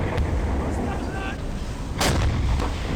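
A heavy ship explosion in the submarine game Silent Hunter 5 booms out as a loud, continuous low rumble with a sharp blast burst about two seconds in, then further distant thuds.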